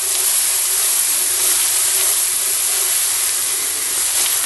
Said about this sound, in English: Now it's going to cook the onions.